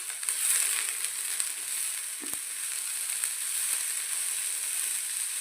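Vegetables frying in a pan with oregano and black pepper, a bright, steady close-up sizzle with a single sharp knock from the utensil partway through.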